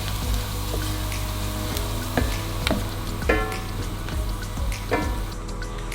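Onions sizzling in a pan for Greek pastitsio, a steady soft fry with the occasional clack and scrape of a utensil stirring.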